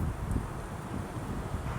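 Steady wind buffeting the microphone at a campsite, a continuous low rumble with rustling and no voices.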